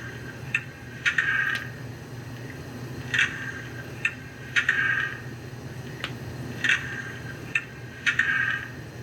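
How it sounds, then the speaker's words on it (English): An ESU sound decoder in a Rivarossi two-truck Heisler HO scale locomotive plays a slow air pump, soft hissing chuffs spaced at a slow, irregular beat, each short puff followed by a quieter stretch, faint and unaccompanied by voices. "F5, slow air pump."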